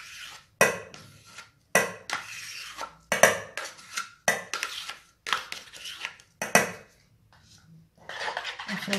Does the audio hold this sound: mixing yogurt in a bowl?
yes